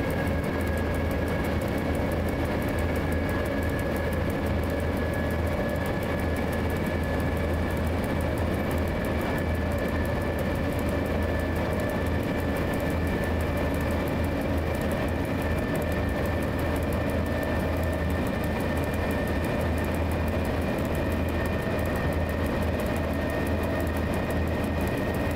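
A train's traction motors hum steadily as power is raised with the shunting handle, a continuous close drone with faint high tones and no voices.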